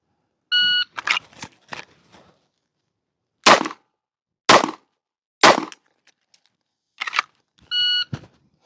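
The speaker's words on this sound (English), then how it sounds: "we will draw, put 3 rounds on target in 7 seconds" Three pistol rounds fired at a target during a timed draw-and-fire drill at a shooting course, heard as sharp bangs spaced about a second apart, with range timer beeps at the start and the end.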